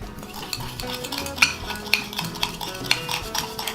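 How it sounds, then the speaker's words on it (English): A spoon stirs Cuban coffee and sugar in a cup, giving rapid rhythmic scraping with regular bright clinks against the rim, close and clear. "you're gonna go ahead and mix the coffee that you put in here with the sugar"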